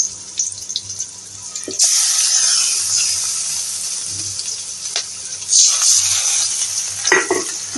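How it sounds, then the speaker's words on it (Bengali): Frying in a pan until the contents turn reddish-brown, a close, loud hissing sizzle that swells in bursts, with clattering stirs and a faint low hum underneath. "মধ্যে কিছুক্ষণ ভেজে যখন লাল লাল হয়ে যাবে তখন মশলাটা দিয়ে দেবো"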